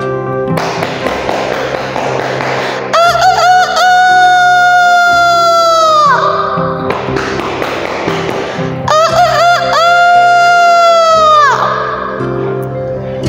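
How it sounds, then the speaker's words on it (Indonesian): Two long rooster crows ring out loud and close, one after another, with other clucking and scratchy farmyard sounds in between. "suara kokok ayam pun saling bersahut-sahutan"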